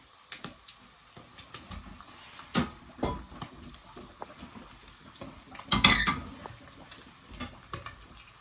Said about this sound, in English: So we drain it. We drain the spaghetti.